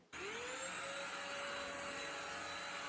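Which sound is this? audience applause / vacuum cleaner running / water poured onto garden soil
vacuum cleaner running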